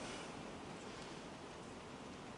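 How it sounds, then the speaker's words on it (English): Pouring rain outside makes a steady, faint hiss that never lets up, heard alone without any voices. "It's pouring rain."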